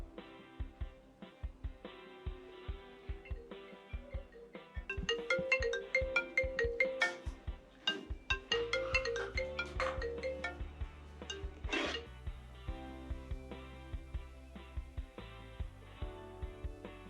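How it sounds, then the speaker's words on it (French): A mobile phone ringtone plays a repeating melodic pattern for the full stretch, fairly loud and close, with no voices over it. "Ton téléphone fait que sonner."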